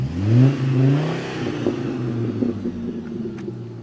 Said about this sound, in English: rev the engine for me